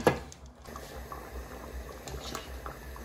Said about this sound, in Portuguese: Olha este barulhinho, é as casquinhas das ameijas a bater no tacho.